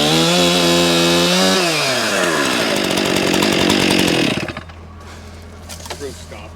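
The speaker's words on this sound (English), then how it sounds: "We're doing some rudimentary carpentry, chainsaw style." Chainsaw biting into spruce timber for rough outhouse carpentry at an old sawmill, a loud close roar with pitch shifts as it cuts, then suddenly dropping to a low idle after about four seconds.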